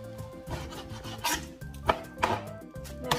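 Several sharp knife chops thud on a cutting board at close range as chicken breast is cut, irregularly spaced, over a steady hum of background music.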